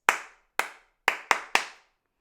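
A single person claps out a slow-slow-quick-quick-slow rhythm, five crisp, close hand claps with two widely spaced beats followed by three quicker ones, alone in a quiet room.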